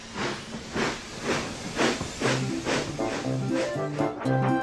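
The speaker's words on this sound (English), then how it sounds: "And he chuffed quickly away." An animated steam locomotive chuffs away in quick, regular bursts of hissing steam, each puff distinct and close, while sustained musical notes join in partway through.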